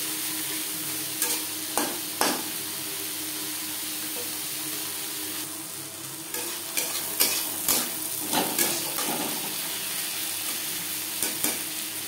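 Garlic cloves and tomatoes fry and are stirred in a pan for a fish curry, a steady close sizzle broken by repeated scraping and clinking strokes of the spoon against the pan.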